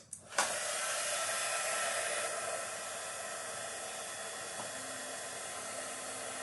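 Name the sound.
heat tool blowing hot air to warm glue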